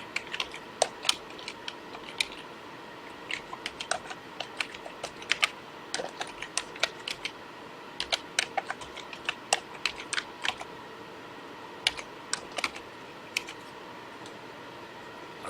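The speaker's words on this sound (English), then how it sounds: "I think I've typed everything correctly there." Clicking keystrokes on a computer keyboard, soft and close, arriving in irregular bursts of typing with short pauses, alone in a quiet room.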